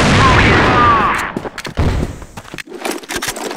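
Loud sniper rifle shot in a tactical team video game, a single sharp blast with a long ringing tail, followed by scattered game clatter and faint voices.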